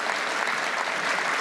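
Audience applause at a town hall meeting held in Daegu, a steady dense clapping wash that fills the space evenly and loudly from start to finish, with no voices heard over it.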